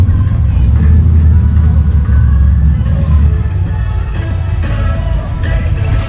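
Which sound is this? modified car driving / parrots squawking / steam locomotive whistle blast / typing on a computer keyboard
modified car driving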